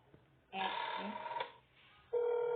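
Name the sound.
telephone ringing in a clown horror video game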